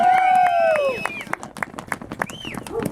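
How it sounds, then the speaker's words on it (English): A rally crowd in Burns, Oregon, cheers with loud whoops and shouts, then breaks into scattered, fairly close clapping amid general crowd noise. "How about a big round of applause for Stacy Barbeau?"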